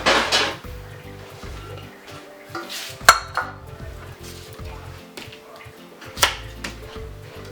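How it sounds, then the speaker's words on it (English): A cooking pot is handled and set down for boiling cut plantains, with repeated clanks and knocks of metal and utensils, one sharp bang near the middle and another later, close and fairly loud. "And I get my pot, put it in."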